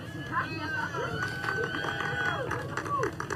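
Crowd of onlookers in Texas applauds and cheers as the crew of a Blue Origin New Shepard capsule emerges after landing, a steady, moderate roar of clapping mixed with chatter and talk.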